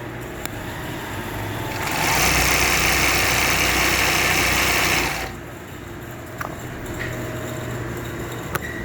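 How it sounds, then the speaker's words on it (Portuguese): A Yamata semi-industrial zigzag sewing machine runs a straight stitch in a burst of about three seconds, a fast, steady, buzzing whir that stops abruptly, with quiet handling clicks before and after. "A costura reta da zigue-zague 3 pontinhos"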